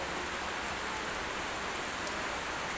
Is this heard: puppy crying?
no